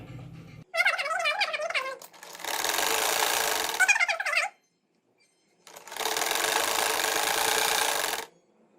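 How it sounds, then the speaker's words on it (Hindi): A domestic sewing machine stitches fabric strips in two sustained bursts of rapid motor whir, separated by a short pause, with brief squeaky sounds before each run. "कट करने के बाद सिलाई लगाएंगे"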